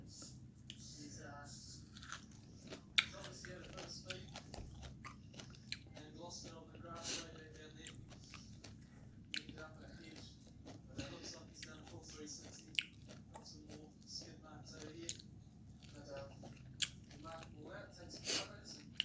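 Close, moist chewing and biting of an Isan-style fish dish with fresh vegetables, soft irregular mouth sounds and small crunches running throughout.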